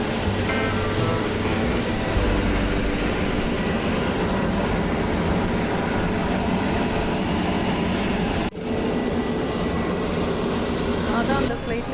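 Engine roar from a 180-seat passenger airplane in flight fills the cabin, a loud, steady broadband drone that holds for the full length with one brief dip near the end.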